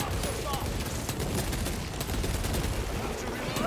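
A Gatling gun fires in Warhammer 40k Space Marine 2, a dense, continuous roar of rapid shots with battle noise mixed in, loud and unbroken for several seconds.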